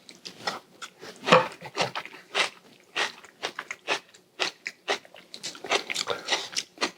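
Close, crisp crunching and chewing of a mouthful of fresh pico de gallo, irregular bites repeating steadily throughout, loud and near, no talk.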